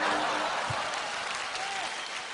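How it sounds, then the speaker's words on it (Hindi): A studio audience on an Indian television comedy show bursts into loud, sustained applause, a dense wash of clapping that holds steady and fades slightly toward the end. "मनीष पॉल के लिए जोरदार तालियां"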